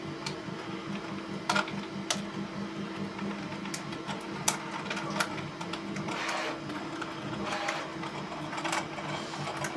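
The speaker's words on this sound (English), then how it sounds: "put the screw into that hole to cut the thread" Screw being driven into a pre-drilled hole in a knock-down fitting, cutting its own thread; a close, steady mechanical whirring with scattered sharp clicks and ticks, alone and without speech.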